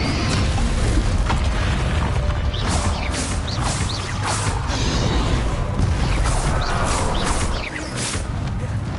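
A Descendo spell cast during a dragon fight in Hogwarts Legacy, a loud dense rush of crashing, creaking and booming effects that surges continuously, with bursts of impact layered over a heavy rumbling bed.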